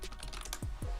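Keys on a computer keyboard are tapped in quick, light succession, faint and close, with a few scattered clicks over about a second.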